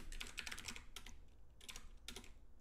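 Fingers type on a computer keyboard in short bursts of rapid, close clicking keystrokes separated by brief pauses.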